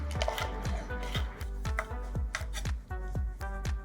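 A knife slices a mild red chili into thin slices on a cutting board, about a dozen quick, evenly spaced taps close up, with no talking.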